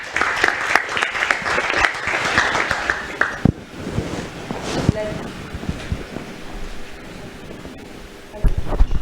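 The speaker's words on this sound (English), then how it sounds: "Please give them a round of applause for that." Audience applause at a tech conference on India's technology-led transition, a dense burst of clapping for the first few seconds that cuts off and gives way to quieter room noise and faint murmurs.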